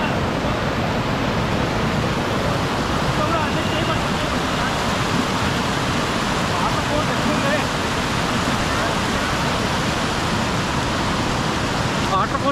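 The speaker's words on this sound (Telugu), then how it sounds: "వాటర్ ఫోర్స్ చాలా ఎక్కువ ఉంది కదా," A strong waterfall in the Araku Valley hills roars as one steady, dense wash of rushing water, loud and unbroken for the whole stretch.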